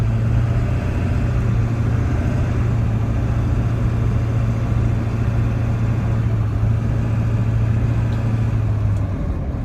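A 2000 Ford truck with the 7.3 engine drives along with a steady, loud, low rumbling drone and a constant hum that holds unchanged throughout, with no voices.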